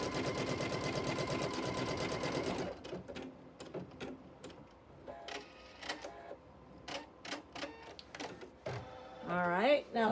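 A sewing machine stitches a flying geese quilt block in a dense, rapid run of needle strokes. Scattered clicks and short mechanical chirps follow, with a brief whirring burst at the end, all close.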